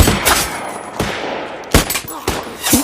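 Loud, close gunshots ring out in a post-apocalyptic film scene, with several sharp reports at irregular intervals over a dense, noisy background.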